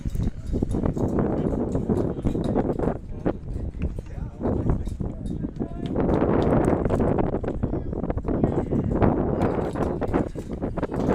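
Gusty wind buffets the microphone at an outdoor high school baseball game on a breezy evening, a constant broad rumble that swells and eases under steady commentary.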